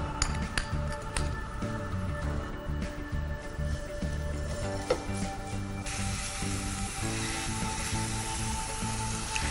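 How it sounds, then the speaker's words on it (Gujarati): A spoonful of ginger-garlic paste sizzles in a little hot oil on a television cooking show, a continuous crackling fry with occasional clinks of a utensil against the pan. "તેલ ગરમ થઈ ગયું છે હવે એમાં આદુ અને લસણની પેસ્ટ છે એક ચમચી લઉં છું"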